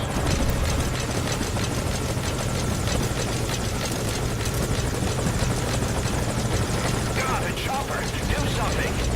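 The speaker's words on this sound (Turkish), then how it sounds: "Helikopter geliyor." Enemy helicopter in Metal Gear Solid V: Ground Zeroes, a loud, steady rotor chop with engine roar that fills the whole stretch, with a player's voice faintly under it.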